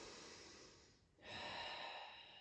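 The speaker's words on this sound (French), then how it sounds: "On commence la respiration." Breath during a foundation training breathing exercise: one long exhale fades into a short pause, then a strong inhale follows, close and clear with no talking.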